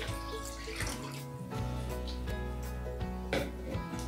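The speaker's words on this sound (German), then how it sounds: "Erstmal unser Wasser in die Schüssel." Water pours steadily into a mixing bowl while preparing a simple three-ingredient vegan, gluten-free chickpea batter, a continuous close splashing with tonal resonance and brief surges, no talking.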